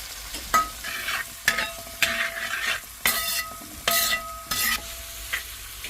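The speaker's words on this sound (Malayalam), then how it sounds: "അപ്പൊ നമുക്ക് സവാള ഒന്ന് വാട്ടിയെടുക്കാം" Chopped onions sizzle in hot oil for a crab curry while a spoon scrapes and stirs them around the pan in repeated strokes, the frying close and steady throughout.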